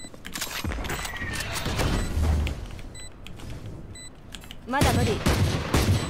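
Sovereign Ghost pistol shots in VALORANT, a rapid series of sharp cracks spread through a busy match with a sudden loud burst near the end, partly under a game announcer voice.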